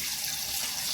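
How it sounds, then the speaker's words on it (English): Hot water runs from a sink tap in a steady, even hissing stream, close and continuous for a brief moment. "I'm going to turn on some hot water in the sink"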